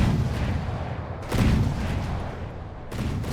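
Battleship main guns fire in a naval combat game, two heavy booming blasts with rumbling tails under steady low engine and sea noise, a third shot starting at the end.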